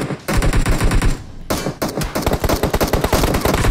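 Automatic weapons fire in PUBG Mobile hammers out loud, fast continuous bursts up close, with a brief break before another sustained volley.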